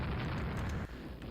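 A shell hit explodes in the naval warship game Ruling the Waves, a loud, dense boom that fills the short moment and then eases off slightly.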